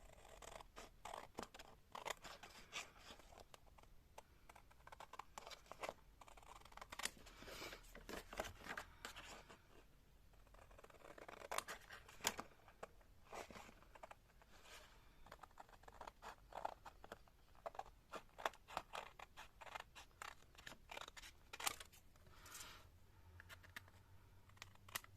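Scissors cutting a Halloween paper card: a long run of close, crisp snips and rustling paper, quick irregular cuts repeating steadily with brief pauses, no talking.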